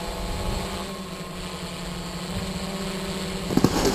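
A drone hovers and then descends to land, its rotors giving a steady, close, broadband whir with a constant hum and no voices.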